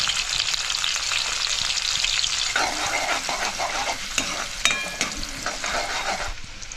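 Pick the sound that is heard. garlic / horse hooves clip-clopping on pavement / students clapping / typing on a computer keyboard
garlic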